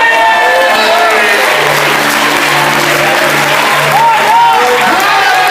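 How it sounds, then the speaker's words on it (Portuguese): A congregation at a Friday evangelical church service claps and cheers in a dense, continuous wash, with shouting voices and sustained musical tones running underneath throughout. "Só quem pode aplaudir"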